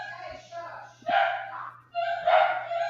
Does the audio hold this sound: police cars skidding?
no